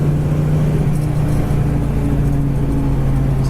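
A 1970 Chevrolet Chevelle cruising on the road at around 65 mph, its engine giving a steady, loud low drone and rumble from inside the car with a constant whir and no speech.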